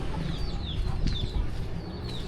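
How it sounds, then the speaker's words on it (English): A rooster squawks and clucks a few times at mid distance in a neighborhood alley in Cabarete, Dominican Republic, over steady outdoor background noise. "There's the rooster."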